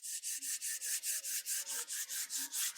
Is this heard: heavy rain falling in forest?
no